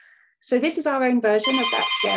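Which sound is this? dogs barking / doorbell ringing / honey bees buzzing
doorbell ringing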